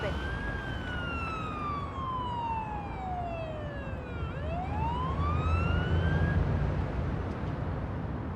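Ambulance siren in the Ambulance Life paramedic simulator game, a wailing tone sliding slowly down then rising again over a steady engine rumble, loud and close.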